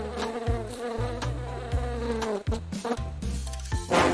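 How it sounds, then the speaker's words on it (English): Bees buzz near flowers in a children's toy cartoon, a rising and falling drone with a tonal, somewhat synthetic quality, steady and close, ending in a brief noisy burst. "I hear bees!"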